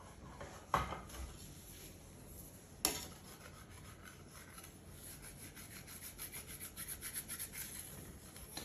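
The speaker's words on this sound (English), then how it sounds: "Using the baker's knife to dislodge it from the counter." A baker's knife scrapes and rubs sticky pizzagaina dough loose from a kitchen counter, a soft continuous scraping with two sharper knocks early on and a rhythmic rasping that builds toward the end, fairly faint and with no talk.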